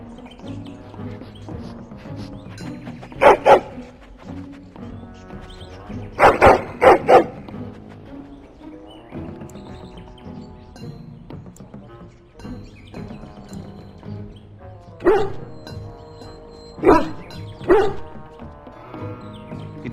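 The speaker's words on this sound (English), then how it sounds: "That hound should be in the kennels, not wandering the castle." A hound barks in the castle during Dragon Age: Origins, several sharp bursts of barking in clusters over steady game music and ambience, moderately loud and close.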